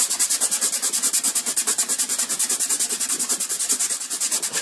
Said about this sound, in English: It's just basically just sanding it nice and smooth.